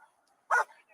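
One short, loud bark comes from a police K9 dog at an arrest scene, with murmured voices faintly around it.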